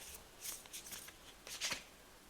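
Tarot cards are handled and drawn from a deck: soft, close papery riffles and slides in short bursts, with a final crisp card flick, quiet and without voices.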